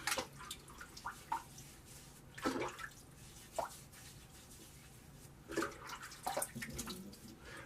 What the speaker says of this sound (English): Let's rinse off and we'll come back for pass two.